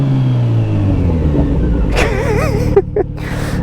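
A motorcycle engine revs steadily, its pitch climbing and falling through quick rev-matched blips, loud and close, with a voice briefly speaking over it near the end.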